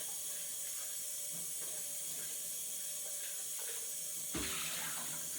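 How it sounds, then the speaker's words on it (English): Tap water runs steadily into a sink with a hissing rush, then a brief splash as a glass blender jar is held under the stream. "I'm just going to rinse out the glass piece"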